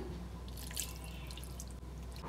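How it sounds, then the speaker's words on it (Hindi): A spoonful or two of water goes into a pan of kakoda (spiny gourd) sabzi seasoned with amchur powder, making soft, quiet drips and trickles over a low kitchen hum. "अब इसमें हम डालेंगे 1 से 2 टेबल स्पून पानी"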